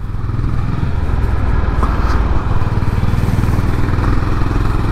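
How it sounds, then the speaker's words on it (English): A Honda CB 350 H'ness motorcycle is ridden with its thumpy engine loud and close, giving a continuous throbbing rumble with no talking. "A very thumpy engine."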